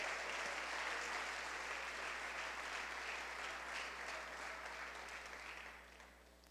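Congregation at a church service applauding steadily, a dense broadband wash of clapping that holds strong before thinning slightly toward the end.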